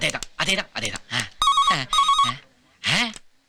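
A telephone rings in a Tamil comedy film scene, with two short ringing bursts sounding under and between people's speaking voices.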